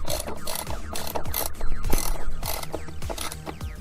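A ratchet clicks in quick repeated bursts as it tightens a 7mm nut on a phone mount fitted to a plastic dash, close and crisp with short pauses between strokes.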